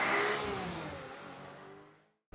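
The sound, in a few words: Lexus RC F naturally aspirated V8 sports coupe driving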